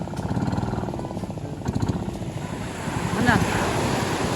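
A small fishing boat's engine chugs with a rapid pulsing beat at sea during net fishing for mullet, running steadily beneath people talking and swelling slightly toward the end.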